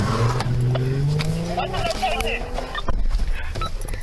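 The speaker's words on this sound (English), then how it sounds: "Be advised, the vehicle took off." A black 2017 Chrysler 300 speeding away from a police stop in New Jersey, engine revving loudly as it accelerates, with rising and falling motor tones and road noise close by.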